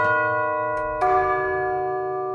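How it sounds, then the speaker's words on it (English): Tubular bells from the BBC Symphony Orchestra Discover orchestral sample library by Spitfire Audio, tuned percussion, struck twice in quick succession, the second strike louder, with long bright ringing overtones and a low hammer resonance sustaining alone. "Tubular Bells."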